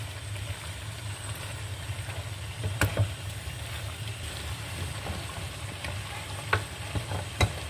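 Onions frying in oil in a pot for lamb with prunes give a steady, soft sizzle throughout, with a few sharp clinks of a utensil against the pot, near and alone without speech.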